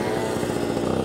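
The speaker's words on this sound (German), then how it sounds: "Ja, mein Auspuff ist auf jeden Fall mies undicht." A 70cc Aerox scooter engine with a leaking exhaust runs steadily up close, a loud, continuous buzzing drone with a rough pulsing rattle throughout.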